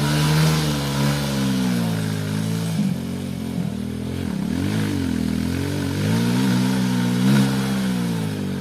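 A motorcycle engine revs hard and rises and falls in pitch as it labours along a slippery red-dirt track in the rainy season. The engine is close and loud throughout, with a little clatter and no talking.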